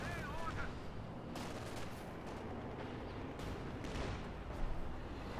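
High explosive rounds and gunfire in the Company of Heroes 2 strategy game, a faint, distant clatter of shots and muffled blasts running steadily through the whole stretch, with a slightly sharper burst near the end.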